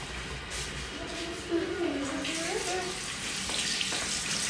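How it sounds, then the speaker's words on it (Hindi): Hands being washed under a running kitchen tap: a steady close stream of water splashing and gurgling at an even level throughout, with faint kitchen background noise. "अभी पहले मैं हाथ धो लूँ अपना"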